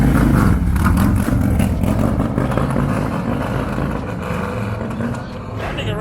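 A 450 dirt bike engine revs loudly and steadily nearby, then settles into a rumbling roar, with voices mixed underneath.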